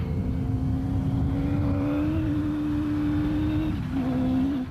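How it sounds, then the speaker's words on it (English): A race car built as a special vehicle for a 2009 racing season drives in a steady, loud engine drone, holding a sustained pitch that climbs slightly, then dips and rises again near the end. "I could spend the whole day driving this car."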